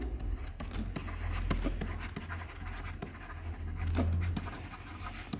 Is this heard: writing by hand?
yes